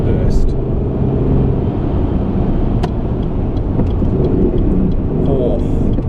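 A 1994 Saab 900 V6 with a manual gearbox accelerating hard off a highway, a loud, continuous engine roar with heavy road and wind noise close up inside the cabin.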